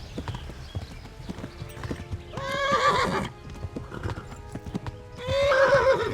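Horse in the medieval RPG Kingdom Come Deliverance, steady clip-clop of hooves running throughout with two loud, drawn-out neighs, one around the middle and another near the end, no talk.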